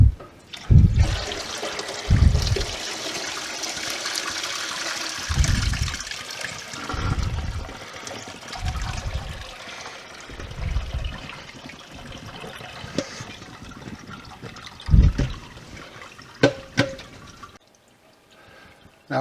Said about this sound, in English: we're going to pour the rest of the whey in the curds